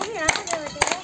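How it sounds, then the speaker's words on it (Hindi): A few scattered hand claps from a yoga class audience in Hindi-speaking India, sharp bursts under a speaking voice across about a second. "एक बार जोर से पहले बजाइए ताली।"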